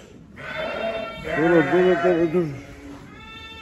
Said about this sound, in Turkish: Sırada doğurmuş koyunlar.